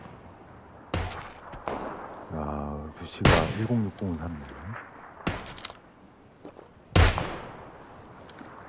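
Gunfire in the PUBG video game, on a new test-server map: four loud, sharp shots spaced a few seconds apart, with someone talking between them.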